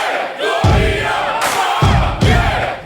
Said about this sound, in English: you can hear them chanting Makedonia in the crowd